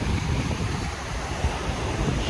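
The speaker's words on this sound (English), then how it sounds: "and this is the beach." Ocean waves roll in at Marina Beach in Chennai, a steady low wash of surf mixed with wind noise buffeting the microphone, with no voices.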